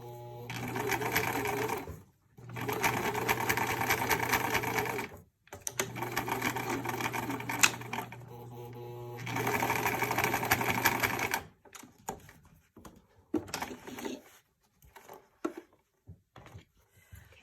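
A sewing machine stitches a fitted fabric facemask in four steady buzzing runs, each a couple of seconds long, separated by brief stops. Quieter handling clicks and rustles follow. The sound is close and moderately loud.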